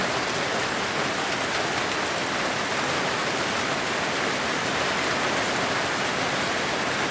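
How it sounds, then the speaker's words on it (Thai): Heavy rain pours down steadily on a garden, a dense continuous hiss of drops hitting surfaces with no pauses or voices. "ฝนตกหนักมากเลยค่ะ ตอนนี้นะคะ"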